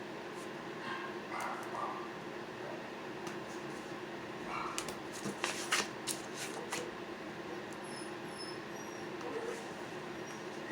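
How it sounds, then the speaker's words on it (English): A puppy barks at neighbouring dogs indoors, producing several short, sharp yaps in a loose cluster near the middle, fairly close but not loud, over a steady household background hum. "I have a puppy that likes to bark at other dogs"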